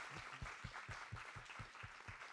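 An audience at a Japan House book club event at a book fair claps steadily throughout, a continuous wash of applause with a few louder individual claps standing out.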